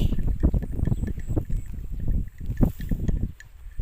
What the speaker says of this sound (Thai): ลมพัดเย็นสบาย